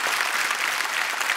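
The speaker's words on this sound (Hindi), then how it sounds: "उर्वशी के लिए एक बार फिर से तालियां।" A studio audience at a comedy talk show bursts into dense, sustained applause, loud and even throughout without pause.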